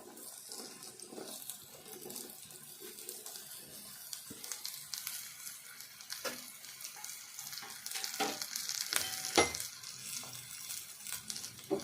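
Ridge gourd pieces frying in a pan for a ridge gourd and moong dal curry, giving a steady soft sizzle with intermittent stirring scrapes and watery crackles, close and continuous, with no voices.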